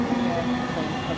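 A Southern Class 313 electric train departing Havant bound for Portsmouth Harbour, heard as a steady, fairly loud rumble with a sustained motor hum that continues without a break.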